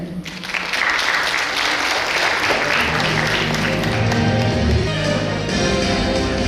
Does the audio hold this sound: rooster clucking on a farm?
no